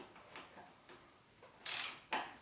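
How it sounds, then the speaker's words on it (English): A wrench tightens the pinch bolt on the aluminum top triple clamp of a KTM 300 EXC dirt bike. Sparse soft clicks lead to a louder ratcheting burst near the end, close and quiet. "you got to tighten down this pinch bolt at the top, and that'll lock it in"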